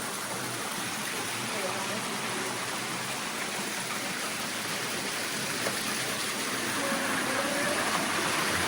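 A stream of water flowing out of a cave in Iceland rushes in a steady, loud, continuous wash of noise that barely changes over several seconds.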